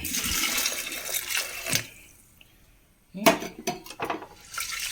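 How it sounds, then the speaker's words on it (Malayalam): Hot water poured into a pressure cooker with lentils for a simple curry, a loud, close rushing pour that fades to near silence, then resumes in splashy bursts with a few metallic clinks, with no talk. "ചൂടുവെള്ളം ഒഴിച്ച് കൊടുക്കാം"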